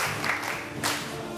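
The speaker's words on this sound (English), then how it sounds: "Clap for our place" Schoolchildren and others clap together in a steady, even burst of applause, close and fairly loud, lasting the whole moment with no talk over it.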